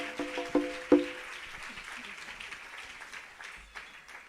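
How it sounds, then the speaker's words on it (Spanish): A church crowd applauds in a broad continuous patter, with a few sustained tones and voices mixed in at the start before the clapping fades, at a live preaching service. "Merece Dios que haya un aplauso fuerte"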